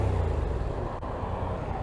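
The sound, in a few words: Yamaha XSR700 motorcycle engine revving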